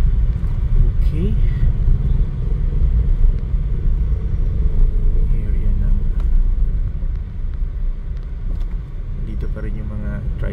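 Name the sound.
car driving along Corrales Avenue, Cagayan de Oro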